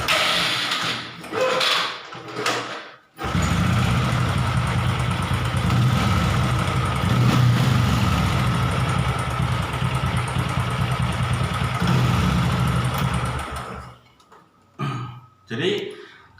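A Honda Karisma 125 motorcycle engine starts and settles into a steady, fairly loud idle for about ten seconds, with someone talking briefly before it starts and after it stops.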